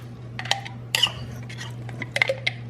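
A metal spoon clinks against a bowl while stirring raspberry preserve for a Linzer tart, giving a few sharp, close taps in small clusters over a low steady kitchen hum.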